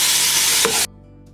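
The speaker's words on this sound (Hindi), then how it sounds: "थोड़ा तेज चूल्हे पे इसको हम भूनेंगे गोश्त को" Beef for biryani sears on a high flame, a dense broadband sizzle with a brief scrape of stirring, then cutting off abruptly to near silence partway through.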